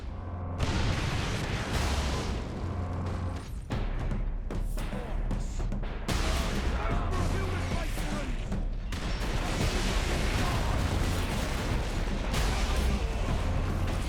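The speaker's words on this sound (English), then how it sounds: "Orc rocket launchers on the high ground." Ork rocket launchers firing from high ground in Warhammer 40k: Space Marine, a dense, continuous barrage of booming blasts and explosions layered over heavy combat noise, loud and sustained throughout.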